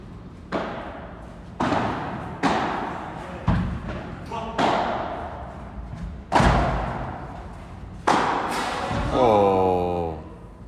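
A padel ball is struck again and again during a practice session, giving sharp thuds roughly every second or so, with people talking between the hits.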